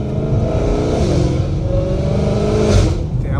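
A Dodge Hellcat Redeye with fully straight-piped exhaust accelerates, its engine a loud, raw, constant roar that climbs steadily in pitch, heard close from inside the car.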